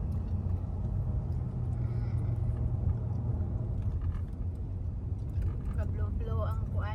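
A garbage truck gives off a continuous deep motor rumble close by, and a voice speaks briefly near the end.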